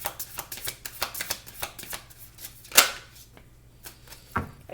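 Oracle cards shuffled by hand, a close run of crisp riffling snaps and flicks in an uneven rhythm, with one sharper slap near the middle, no talking.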